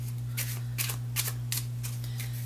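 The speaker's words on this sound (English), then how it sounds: "I'm going to shuffle them this way a couple of times." A deck of playing cards is shuffled several times in a row, producing rhythmic riffling bursts about every half second over a steady low electrical hum.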